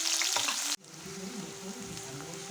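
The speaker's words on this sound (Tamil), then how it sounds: "சின்ன வெங்காயம் போட்டு இதை நல்லா வதக்கிக்கலாம்" Small shallots hit hot oil for crab masala with a loud burst of sizzling that cuts off sharply, then settles into a steady, quieter frying hiss with faint stirring.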